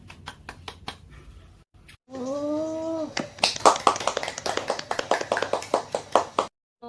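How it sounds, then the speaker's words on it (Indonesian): Students in a classroom clap their hands in sharp, distinct claps. A few separate claps come first, then a burst of quick group clapping that stops abruptly, with a brief voice in between. "beri tepuk tangan untuk kalian semua"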